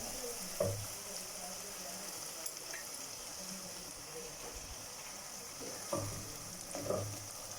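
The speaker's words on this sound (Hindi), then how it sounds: "अब मैं चिकन डालूँगी।" Chicken pieces go into hot oil with fried garlic-ginger paste for achari chicken, giving a faint, steady sizzle with a few brief louder crackling bursts.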